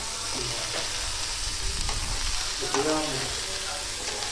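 Bitter gourd (kakarakaya) pieces with salt and turmeric frying in an uncovered pan, giving a continuous close sizzle broken by the scrape and rustle of repeated stirring.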